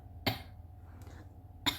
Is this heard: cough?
yes